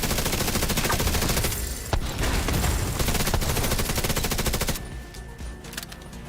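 KSG shotguns and rapid gunfire in The Division 2 during Battle for Brooklyn play, a dense, loud fusillade of shots pounding almost continuously before thinning toward the end.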